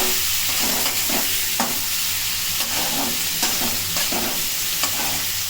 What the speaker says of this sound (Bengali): চিংড়ি মাছগুলো দিয়ে দেওয়া হলো, এবার ভেজে নেওয়া হচ্ছে।